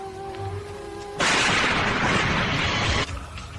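A gunshot sound effect in an Indonesian radio drama comes as a loud, sustained burst of noisy blast lasting close to two seconds and cutting off sharply, set between quieter backdrop sound.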